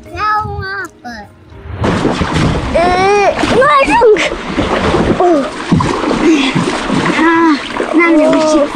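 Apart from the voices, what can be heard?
children splashing in water, making waves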